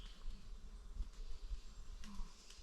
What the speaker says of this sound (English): Can you hear the wasp, the bees in the trees?